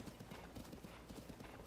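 A horse gallops in The Legend of Zelda: Tears of the Kingdom, giving a quick, rhythmic patter of hoofbeats, faint and steady, with no talk.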